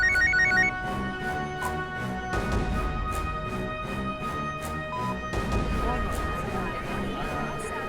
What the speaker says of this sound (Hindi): उठाइए अपना मोबाइल